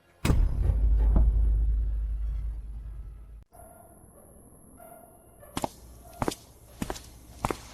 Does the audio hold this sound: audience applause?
no